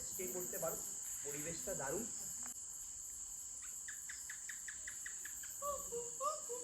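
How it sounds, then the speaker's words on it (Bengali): Crickets trill in a dense, unbroken high chorus at night at a hill resort in Daringbadi, with a few brief bird-like chirps rising over the steady drone. "ঝিঝি পোকার ডাক কিন্তু পাবেন"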